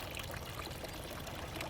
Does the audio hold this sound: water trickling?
yes